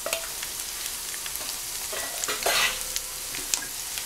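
Garlic tipped into sautéed onion in a frying pan, a soft steady sizzle with scattered taps and one brief louder burst of hissing as the garlic hits the oil, close by.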